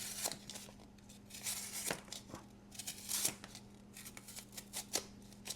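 A fixed blade knife with an S35VN steel blade slices through material in a series of short, crisp cutting and tearing strokes, close and fairly quiet, with a faint steady hum underneath.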